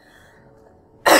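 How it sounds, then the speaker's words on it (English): A person with a cold clears their throat once, a single loud, rough burst that follows a stretch of faint background. "let me like clear my throat one more time and that way it'll just stop"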